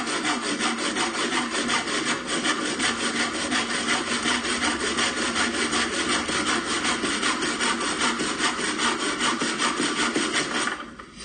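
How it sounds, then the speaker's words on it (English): A hand rip saw cuts through wood in fast, even back-and-forth strokes, a loud, close, raspy rhythmic sawing that continues steadily before stopping abruptly at the end. "I'm sawing, I'm using the hold of the blade."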